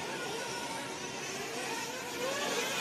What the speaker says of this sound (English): The military jet's just so noisy,